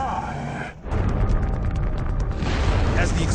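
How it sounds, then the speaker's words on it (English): A chemical explosion sends a shockwave rolling across open land: after a brief lull a sudden, loud, broadband roar takes over and holds as a dense, sustained rumble to the end. "As the explosion erupts,"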